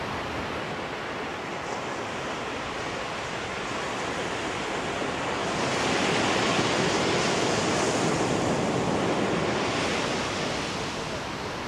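Sea waves wash steadily onto the shore, a continuous broad roar of surf with gusts of wind, swelling slightly louder midway and never breaking into silence.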